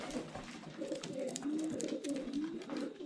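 Young racing pigeons coo inside a loft, with soft, overlapping rolling coos repeating steadily at close range over faint background noise and occasional light rustling.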